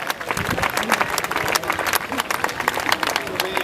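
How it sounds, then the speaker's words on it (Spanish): Audience applause for the Getxo rowing team at the Mundaka regatta, 2013: dense, steady clapping from a crowd that carries through the whole stretch at full strength, with a few voices mixed in. "También un fuerte aplauso para el equipo de Getxo."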